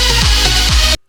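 A dense electronic dance music mix overloaded with harsh, hissy treble. A thumping beat with pitched bass swoops sits beneath the glare, and it plays loud for about a second before cutting off abruptly.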